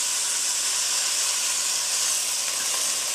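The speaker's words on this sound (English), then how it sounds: "Now, I'm going to add about a cup of that vegetable stock." Vegetable stock poured into a hot pan of summer vegetable risotto, giving off a loud, steady steaming hiss that holds evenly throughout, close up and with no speech.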